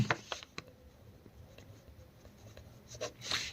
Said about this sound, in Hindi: तो यहाँ पे लिखेंगे नई लाइन से, यानी हम लिखेंगे पहले माना।